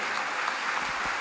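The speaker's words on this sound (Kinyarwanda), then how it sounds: "tubakomera amashyi" A church congregation applauds the mothers, a steady wash of clapping that runs evenly throughout with no pauses or voices on top.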